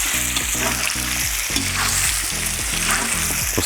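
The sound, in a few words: meat frying in a cauldron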